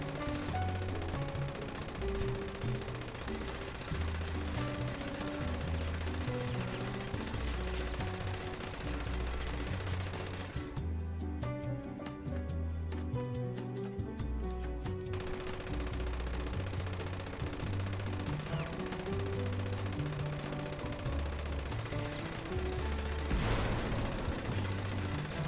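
Sustained light machine gun fire from a Fallout 76 LMG, rapid bursts running steadily through the clip with a short shift in texture midway, loud and close with no talk.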